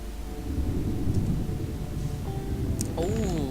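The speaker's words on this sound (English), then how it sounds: "Oh, is it raining?" Rain and rumbling thunder in the video game Gothic, a dense low roar filling the whole stretch, with a brief tonal game sound and a rising-falling whine near the end.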